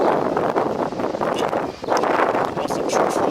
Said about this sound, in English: It's windy out here, y'all.